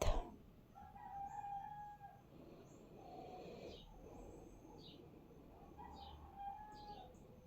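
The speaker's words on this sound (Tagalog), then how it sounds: "nagtugtugaok na pud ang manok" A rooster crows faintly in the distance, twice, over a quiet outdoor background with chirping birds.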